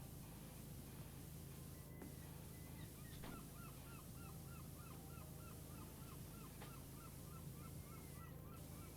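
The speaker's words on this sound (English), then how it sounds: "I hear seagulls." In the Powerwashing Simulator game, distant seagulls give a run of short repeated cries over steady broadband spray-like noise, with a few brief louder bursts.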